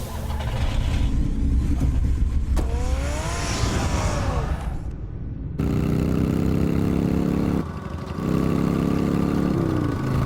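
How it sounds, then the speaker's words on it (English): A car in the Batman Telltale video game starts up and drives off, its engine note rising and shifting in steady loud drones that jump between distinct sections, with no talk. "Get the car ready, Alfred."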